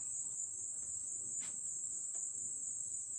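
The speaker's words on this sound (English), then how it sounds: "Can you hear a high-pitched buzzing sound here? It's like cicadas or locusts or something." High-pitched insect buzzing from cicadas or locusts outdoors, a continuous shrill whine that holds steady throughout, with faint low background rumble beneath.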